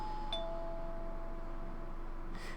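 A doorbell rings inside the horror video game Corpse Party: Blood Drive, a clear electronic chime tone near the start, held steady, then fading against a low ambient hum, with a soft burst near the end.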